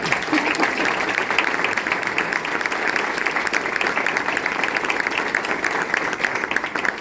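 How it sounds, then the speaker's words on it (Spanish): An audience at a book event applauds an illustrator, a dense, steady wash of many hands clapping at close range that holds without break for several seconds. "Yo creo que le damos un aplauso a Dani Pintor."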